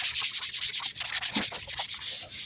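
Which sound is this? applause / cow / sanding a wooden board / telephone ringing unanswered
sanding a wooden board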